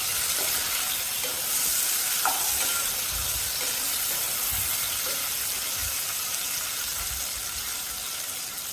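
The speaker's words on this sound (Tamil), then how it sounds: "தக்காளி சேர்த்துட்டு 1 நிமிஷம் வரைக்கும் வதக்கினாலே போதும்." Tomatoes sautéing in a pan for a sardine curry, giving a steady, moderately loud sizzle with faint stirring scrapes throughout and no voices.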